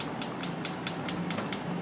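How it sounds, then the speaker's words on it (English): Kitchen exhaust fan running above a gas stove, giving a steady broadband whoosh with a rapid, even ticking rattle repeating about four to five times a second. "now I'm going to go ahead and turn on the fan, so I'm sorry for the noise."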